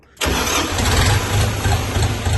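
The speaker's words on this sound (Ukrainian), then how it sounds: "Ну, будемо такого поки заводимо" A DTZ 5404K tractor engine cranks and catches almost instantly, then settles into a loud, steady, rough diesel running note close by, with no talking.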